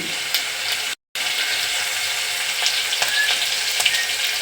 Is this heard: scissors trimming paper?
no